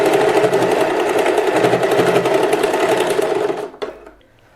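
Sewing machine stitching handmade bedding for a Laddu Gopal idol, a loud continuous whirring run of rapid needle strokes that stops abruptly near the end, leaving only faint room noise.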